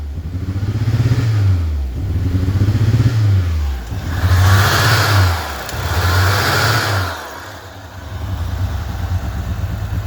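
A 1986 Ford Mustang SVO runs roughly after a cold start, its engine loud and close as it is revved four times in rhythmic swells before settling back to a rough, uneven idle.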